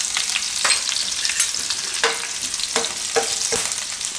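Red chillies and asafoetida fry in hot oil for a Gujarati carrot and spinach dish, giving a loud, steady, close sizzle with occasional stirring clicks and pops.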